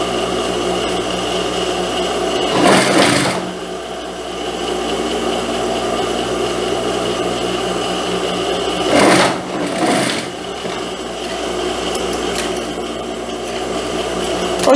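A sewing machine stitches a seam on a wrap blouse, a steady close whir that runs through the clip, broken by two brief stops marked by fabric-handling clatter.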